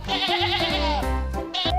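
A sheep bleats in a loud, close, wavering cry, a couple of drawn-out calls in quick succession with no talk over them.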